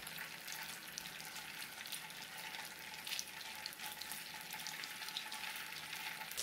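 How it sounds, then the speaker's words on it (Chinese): Hand-washed gluten balls pan-frying in a generous layer of oil, giving a continuous close sizzle and crackle with no talking. "将洗好的面筋丸子放入油锅内煎制"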